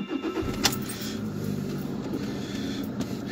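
A car engine is started with a key and settles into a steady, close running rumble, with a brief sharp click near the start.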